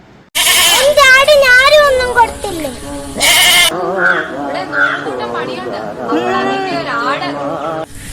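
A goat bleats loudly and close in several wavering, drawn-out calls, mixed with people chattering around it.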